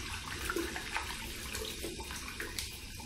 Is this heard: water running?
yes